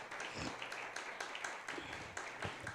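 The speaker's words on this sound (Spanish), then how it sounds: "Aplauda la presencia de Cristo en este día." A church congregation claps during a Spanish-language service, a quiet, steady patter of applause with faint voices underneath.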